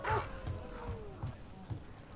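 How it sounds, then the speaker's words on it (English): A dog in Dragon Age: The Veilguard gives a few short barks and a whining yip in the game, close and moderate, with a person talking over it. "Good dog."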